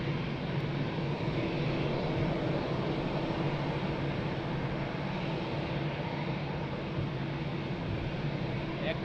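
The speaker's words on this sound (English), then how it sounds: "Air Canada is on final with the beautiful 787" Air Canada Boeing 787 on final approach to runway 02 at Lisbon Airport, a steady, broad engine roar holding at an even level throughout, with a faint low hum beneath.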